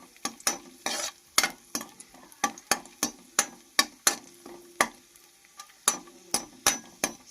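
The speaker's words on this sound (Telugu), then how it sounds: "రెండు బాగా ఫ్రై చేసేసుకోవాలి." Cashews and raisins fried in a pan for pumpkin halwa, with a loud, rhythmic series of sharp spoon-against-pan scrapes and taps over a soft sizzle, about two strokes per second, no talking.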